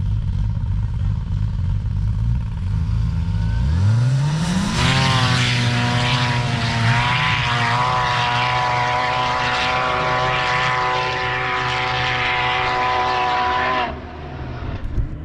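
Can-Am Maverick R side-by-side at sand dunes, engine rising sharply from idle into a loud sustained high-revving drone with strong harmonics for about ten seconds, then cutting back near the end.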